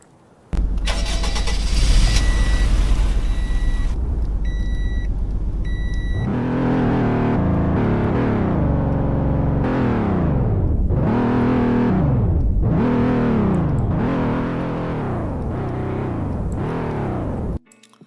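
In the Roblox game Greenville, a family car engine starts with a whirring crank and settles to idle, then revs hard through a series of rising accelerations with quick shifts between them.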